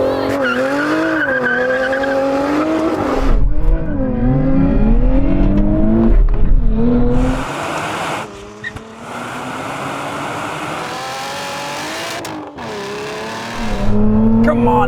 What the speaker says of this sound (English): I am going to launch it with the launch control. I'm going to turn stability off.